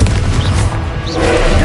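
A loud, booming Confringo fire spell blast in Hogwarts Legacy, a heavy low thump that swells and lingers through a short moment of magical duel combat, with faint voice in the background.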